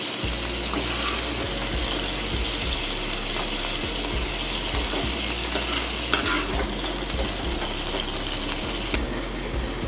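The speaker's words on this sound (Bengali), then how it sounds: "চিকেনটা আমার ভাজা হয়ে গেছে, এবার উঠিয়ে নিচ্ছি।" Chicken pieces frying in a pan, with a dense, steady sizzle and spitting oil heard close and continuous. Soft scraping and handling sounds run underneath, and no voice is heard.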